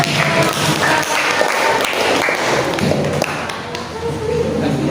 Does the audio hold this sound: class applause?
yes